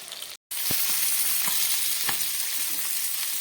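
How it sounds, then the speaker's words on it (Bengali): Bata fish frying in hot oil gives a dense, close sizzle that runs steadily after a brief dropout at the start, with a few soft spatter pops. "গরম তেলের মধ্যে আমি বাটা মাছগুলো ভাজা বসিয়ে দিয়েছি"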